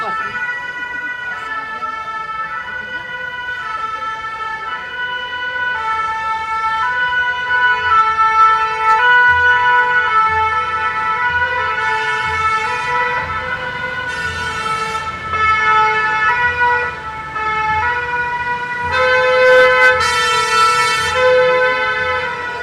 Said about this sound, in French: il y a les sirènes